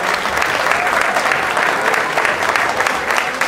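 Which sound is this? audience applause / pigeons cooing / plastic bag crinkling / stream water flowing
audience applause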